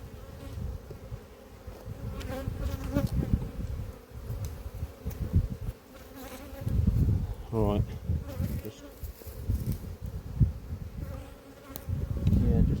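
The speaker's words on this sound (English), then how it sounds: "There must have been quite a few bees out and about then." Many honeybees buzz around a hive at an apiary close by, their drones rising and falling in overlapping swells, with brief soft handling noises and a few quiet words.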